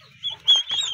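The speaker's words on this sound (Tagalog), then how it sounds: "Tapos meron tayong mga sisiw." Chickens and chicks clucking up close: short cheeping and clucking calls over a low, steady background hum, about a second long with no talk.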